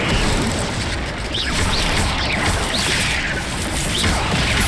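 Incendio fire spells in Hogwarts Legacy burst out as loud, continuous whooshing blasts and crashes in a busy combat mix, with rushing flame noise filling the whole stretch.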